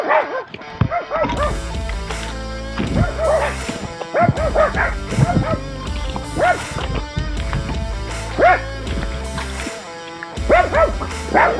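Several hunting dogs on a bushpig hunt bark and yip excitedly in repeated bursts, close and loud, with some whining between barks and occasional voices in the background.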